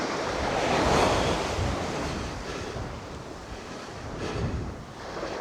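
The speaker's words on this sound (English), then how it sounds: "Lovely white, foamy waves." Broad white foamy waves wash in on a North Sea beach as the tide comes in, a steady rushing surf that swells and recedes, with wind buffeting the microphone and no talk.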